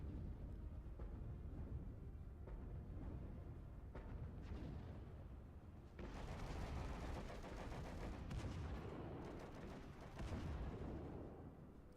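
Distant artillery fire booms in the Steel Division: Normandy 1944 World War II strategy game, a faint, continuous rumble of repeated blasts and scattered gunfire, denser in the latter half, with no speech.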